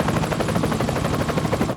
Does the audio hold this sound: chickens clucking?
no